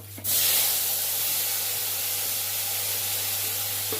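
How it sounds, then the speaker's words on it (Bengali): Paneer pieces tipped into hot oil for a light fry, setting off a loud, steady hiss that starts abruptly and holds evenly close by. "পনিরটা সবটাই দিয়ে দিলাম হালকা ফ্রাই করে নেবো"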